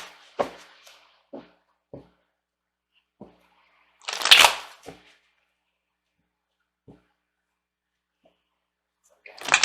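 A deck of tarot cards being shuffled and cut, with scattered soft riffles and taps at irregular intervals, one louder burst of shuffling near the middle, and someone speaking in between.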